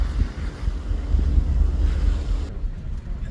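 Cruise ship Carnival Miracle sailing into Kiel, Germany on a Baltic cruise, with steady low wind rumble and water wash buffeting the microphone throughout, no talking.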